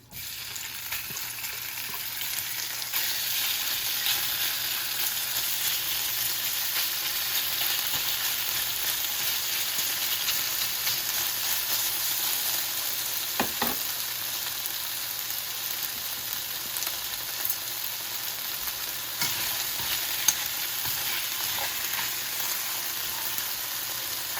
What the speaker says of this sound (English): So I'm heating up my pan and adding some oil. Here is the marinated beef.